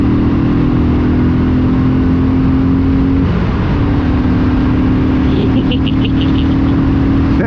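A motorcycle engine hums steadily while riding on a coastal road, a constant mid-pitched drone with wind, briefly dipping then resuming, a few faint clicks near the end.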